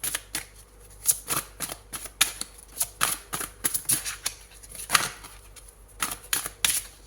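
A deck of tarot cards is shuffled by hand in a quiet room, producing repeated crisp riffling and flicking bursts in an uneven rhythm, close and fairly soft.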